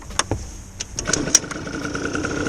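A 50cc scooter engine, run on a 3% two-stroke oil mix, catches after a short cranking burst and settles into a steady, buzzing idle, fairly close outdoors.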